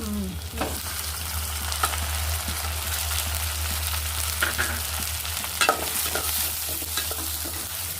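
Tomato sizzles and fries in oil in a pan for a bottle gourd stew, a steady close hiss with occasional stirring scrapes over a low hum, no voices.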